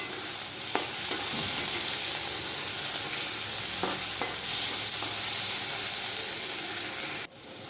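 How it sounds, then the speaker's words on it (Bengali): Mixed vegetables sprinkled with salt sizzle continuously in a hot pan, with occasional scrapes and taps from stirring over the constant frying hiss until an abrupt cut near the end. "এবার এগুলোরে ভালো করে ভাজা করতে হবে।"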